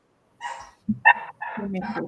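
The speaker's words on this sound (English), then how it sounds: "God, these dogs." Dogs barking in a few quick, fairly loud bursts close by, with short gaps between the barks and no other sound behind them.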